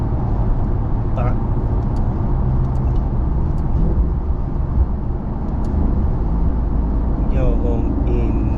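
A 2010 Lexus IS F V8 driving in a fixed gear under load from the brake, a steady loud engine drone with road rumble throughout, while a voice talks over it.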